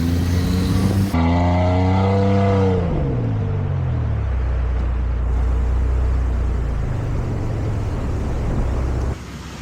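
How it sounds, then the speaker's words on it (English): A car engine revs hard to pull a stuck vehicle out, its pitch climbing and then falling away into a heavy, loud, sustained roar. The revving cuts off abruptly near the end. "Christian, he's got to give it some gas."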